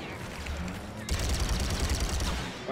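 A minigun in Star Wars Battlefront II opens up after a brief lull, a loud sustained stream of rapid gunfire that fills the rest of the moment over the surrounding battle noise.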